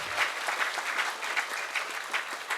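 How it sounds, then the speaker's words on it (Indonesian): An audience at an Indonesian gathering applauds steadily, dense, even clapping filling the whole moment without voices. "Silakan tepuk tangan Bapak Ibu."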